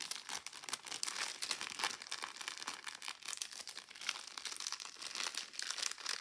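Paper treat bag being folded over, with steady close crinkling and crumpling of paper throughout, no voices.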